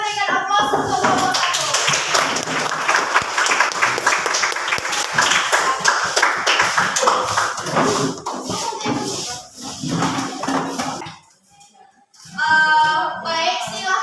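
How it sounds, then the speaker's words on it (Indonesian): Loud, dense applause from a classroom of students for a group that has just finished its presentation, sustained for about ten seconds before fading, with a brief pause and a second short burst of clapping and voices. "silakan berikan aplaus untuk kelompok"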